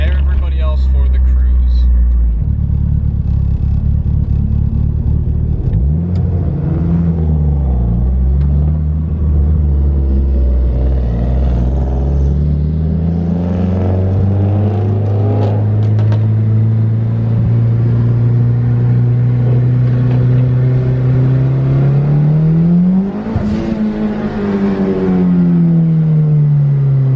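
Several cars pulling away together for a car cruise, a big-turbo DSM among them, engines rumbling and revving close by as they accelerate, pitch climbing and falling through gear changes, with voices talking over the engine noise.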